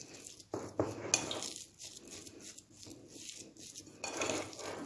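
Minced meat being mixed with a pinch of salt in a bowl, giving irregular soft squelching and scraping with a few sharper clinks against the bowl, close and moderately loud with no talk.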